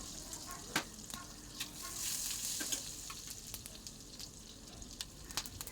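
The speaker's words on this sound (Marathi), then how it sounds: "त्यानंतर राई, थोडासा जिरा टाकून झाल्याच्या नंतर" Mustard seeds and cumin sizzle and pop in hot oil and butter, a steady crackling fry broken by sharp spattering bursts, close and fairly quiet.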